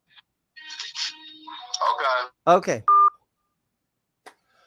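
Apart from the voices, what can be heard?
telephone ringing and dialing tones during a call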